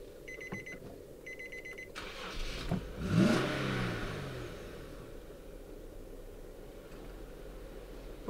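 A 2007 Nissan Skyline 370GT coupe cranks and restarts after stalling, its engine catching and revving up briefly before settling to a low idle, preceded by repeated electronic warning beeps inside the car.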